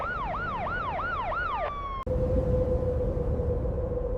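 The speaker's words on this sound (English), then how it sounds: "Sirens echoed across both sides of the contested border as emergency crews mobilized immediately." Emergency vehicle siren wails in a fast, regular rising-and-falling cycle, then abruptly cuts to a single steady tone after a sharp click, loud and close with road noise underneath.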